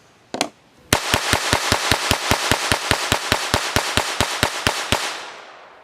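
A Sig P322 pistol firing bulk Fiocchi high velocity .22 rounds: one opening shot, then a fast, steady string of about twenty sharp, loud cracks fired rapidly in succession, close by, with ringing tail after the last.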